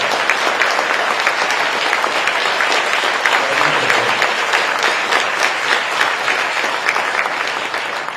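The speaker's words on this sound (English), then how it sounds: "give our president a big round of applause" Sustained, loud applause from a large audience at a Lunar New Year foreign ministry gala in honour of the president, dense clapping holding steady throughout before easing slightly at the end.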